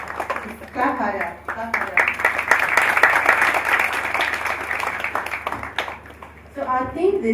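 Audience at a stock exchange hackathon event applauding in a continuous wash of claps, with a voice speaking briefly before and after the clapping.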